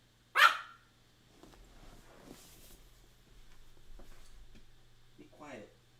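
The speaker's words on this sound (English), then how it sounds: "My dog is being needy." A dog gives a single sharp, loud bark close by at the start, followed by a faint whine near the end, over quiet room hum during a trading livestream.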